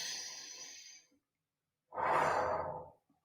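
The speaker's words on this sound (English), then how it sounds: "Take a breath." A person draws a single deep, audible breath, loud and close, after a brief breathy exhale at the start and a pause of silence.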